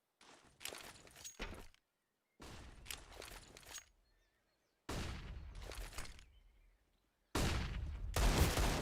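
Rapid gunfire bursts from an esports first-person shooter match, loud and close, arriving in four separate volleys with short pauses of near-silence between them.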